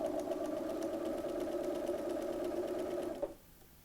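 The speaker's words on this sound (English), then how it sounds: "So I'm just going to sew a regular 5/8 seam." A sewing machine runs steadily while stitching a regular 5/8-inch seam in fabric, its even mechanical whir holding for about three seconds before stopping abruptly.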